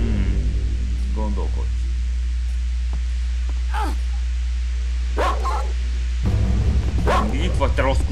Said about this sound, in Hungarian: kutya.